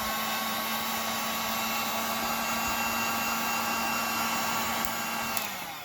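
A heat tool or hair-dryer-style blower runs continuously at close range, drying fresh mortar on etched brick scale-model panels, a steady whooshing hum with a constant whine that shifts slightly and tapers near the end.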